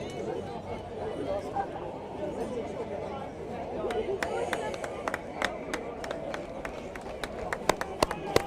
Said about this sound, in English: As the applause go around the grounds, James Combrink, who's sadly going to leave the field now due to that ankle injury.